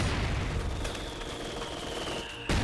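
Dense machine gun fire and battle noise from a Company of Heroes 2 match, Axis against British forces, forming a steady loud roar that runs throughout and cuts off sharply near the end.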